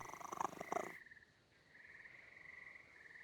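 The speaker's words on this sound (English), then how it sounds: "Purr and meow simultaneously." A cat purrs in a video game, a rough rumbling burst for about a second that gives way to a faint, thin tonal hum.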